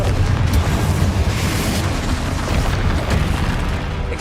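Confringo fire spell explosions in the Hogwarts Legacy video game: a sustained, dense, loud rumbling blast with booming low end and crackling bursts continuing for several seconds, no talk.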